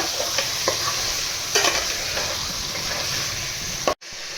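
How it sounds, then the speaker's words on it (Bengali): Mutton pieces frying in hot oil for a korma, a loud dense sizzle close by with a few brief stirring scrapes, cutting off sharply near the end. "মাংসটা একটু ভেজে নেব।"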